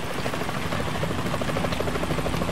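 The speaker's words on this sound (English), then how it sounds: "Is that a chopper I just heard?" A helicopter in the video game Metal Gear Solid 2 beats steadily with rapid rotor thumps, a loud continuous chopping drone heard alone.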